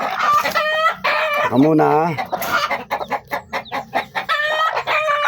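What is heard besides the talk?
mother hen clucking near her chicks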